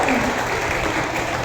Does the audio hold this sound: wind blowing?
no